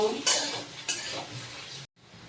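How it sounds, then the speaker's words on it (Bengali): Chopped onions frying in oil make a moderate sizzle, with a couple of clanks of a utensil against the pan. The sound cuts off abruptly near the end. "পেঁয়াজটা ভেজে নেব"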